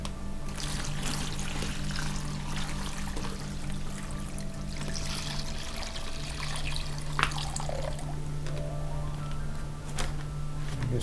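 Water runs and pours steadily into a container in a garage workshop during work on a Model T Ford speedster, a continuous close splashing stream with a low hum underneath and no talk.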